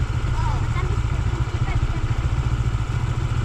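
A motorcycle engine drones steadily and close throughout, a low rumbling hum with a slight clatter, while people talk over it on a long return ride from camping in General Nakar, Quezon.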